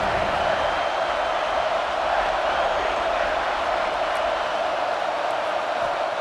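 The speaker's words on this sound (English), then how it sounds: "The crowd getting behind this defense as they try to get a stop in the red zone." A college football stadium crowd roars in a dense, steady wash of cheering for the defense during an Ohio State versus Penn State game, continuous and loud without breaks.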